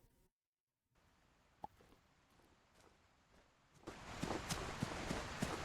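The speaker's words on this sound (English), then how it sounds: "So it looks like you can hear a little bit with the footsteps and stuff." Footsteps in the Ultimate Hunting video game, a run of soft steps over ground that grows louder and busier partway through, set against steady outdoor ambience with no talking.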